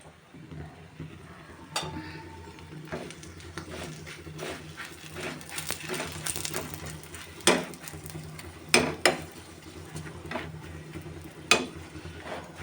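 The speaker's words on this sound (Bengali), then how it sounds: "এভাবে তেল দিয়ে আমি সবগুলো পরোটা ভেজে নেব।" Parathas frying in oil in a pan, a soft steady sizzle with occasional louder scrapes and clinks of a spatula against the pan, no voices.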